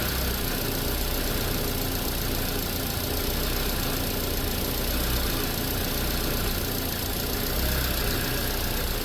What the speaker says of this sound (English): it's definitely running kind of rough, just really vibrating hard and just chugging a little bit